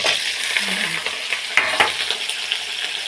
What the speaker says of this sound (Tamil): வதக்கி விட்டுக்கிறோம்.